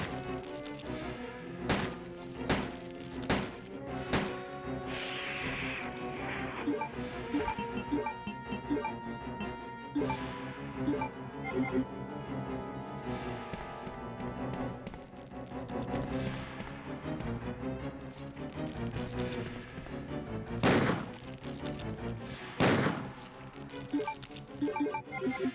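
Pistol fire in Resident Evil 2, a series of sharp, punchy shots spaced irregularly, with two louder blasts near the end, set against a dense layer of game music and ambience.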